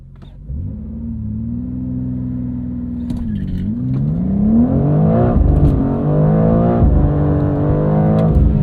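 A 523 hp BMW M2 CS G87 launches under launch control, its engine droning at steady revs before climbing hard through the gears as the tires spin, a loud, close, rising roar from inside the car.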